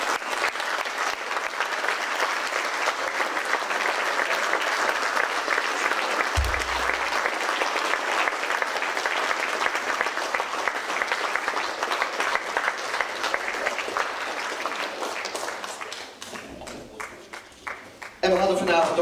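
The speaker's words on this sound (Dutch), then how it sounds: "En allemaal een hartelijk applaus voor Lisbeth." A theatre audience gives a long, dense round of applause after an amateur stage performance, sustained and loud throughout, with a brief voice near the end.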